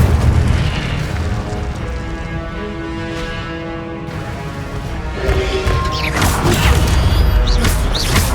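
Fire spell blasts rumble in the Hogwarts Legacy video game, with heavy booming explosions and crackling bursts layered over continuous game music and effects, loud and close throughout.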